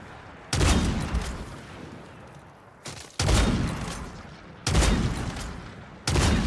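A zombie shooter video game weapon fires in four heavy, booming bursts, each a rapid roar of shots that tails off before the next begins, loud and close.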